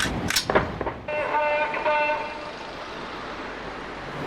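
Celebratory gunfire is shot into the air at a wedding: a few sharp, loud cracks at the start, then a sustained vehicle horn tone blaring in the open air.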